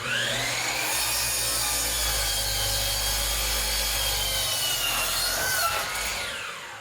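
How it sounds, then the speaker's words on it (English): Power saw making an angle cut through a wooden rafter board, a steady loud whine of the blade biting wood for several seconds, pitch shifting as the cut finishes near the end, with no talking. "Next, we're going to go ahead and put our angle cut onto our rafter."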